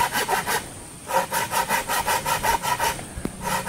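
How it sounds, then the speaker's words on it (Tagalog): A small, slightly rusty handsaw cuts wood in a steady rhythm of rasping back-and-forth strokes, close and loud, with a short pause partway through and no talking. "Medyo maliit lang yung laghari natin pero okay lang."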